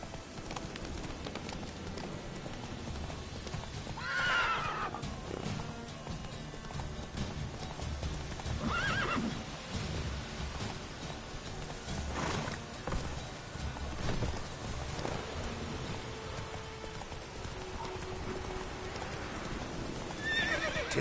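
Horse hooves clip-clop at a steady gallop in The Witcher 3, close and continuous, with several loud neighs and whinnies breaking through over the rhythmic beat.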